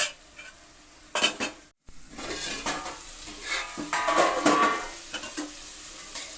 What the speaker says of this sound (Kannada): ಹುಣಸೆಹಣ್ಣು ರಸದಲ್ಲಿ ಈ ಥರ ಬೇಯಬೇಕು